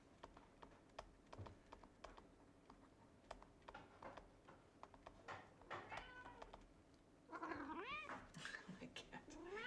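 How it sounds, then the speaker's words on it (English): A cat lets out a drawn-out, wavering meow near the end, after a run of soft, quick keyboard typing clicks in a quiet room. "My cat. No, go away."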